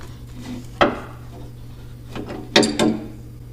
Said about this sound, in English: I believe I can fit this small pipe wrench on the back of the bolt here and grab it that way.